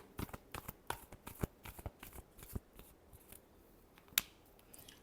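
Tarot cards are shuffled in a string of quick, soft riffling flicks and taps, close and quiet, with one sharper snap near the end.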